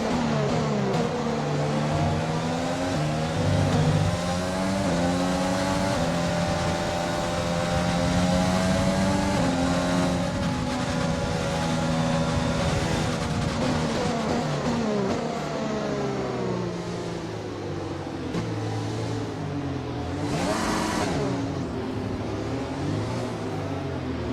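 F1 car engine from the F1 2020 racing game at the Austria circuit, droning steadily on a warm-up lap with continuous revs rising and falling through the gears, close and loud with no talk.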